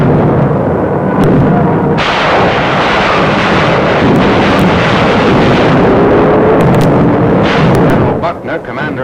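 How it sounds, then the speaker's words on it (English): Naval bombardment supporting the US amphibious landings on Okinawa and the Kerama Islands produces a loud, continuous roar of heavy gunfire and rumbling blasts, with an aircraft drone mixed into the barrage. "uckner, commander of the new U.S. 10th Army, observes the naval bombardment."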